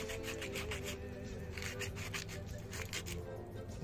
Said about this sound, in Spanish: Mientras tanto, sigue lijando.